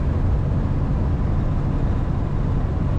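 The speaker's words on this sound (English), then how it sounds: "Smooth running truck." Interior drive in a 1965 Ford E-100 Econoline truck, a steady loud engine and road rumble droning without pause, with no talking.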